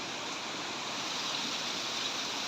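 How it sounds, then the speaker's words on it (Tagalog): A river at Kinabuhayan near Mount Banahaw in Dolores, Quezon, runs with a steady, even rushing of water, close and continuous throughout. "maliligo kami sa ilog, running water."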